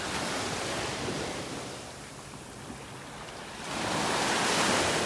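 Ocean waves wash onto a beach in North Naples, Florida, a steady broad hiss of surf that dips in the middle and swells again as a new wave breaks near the end, with no one talking.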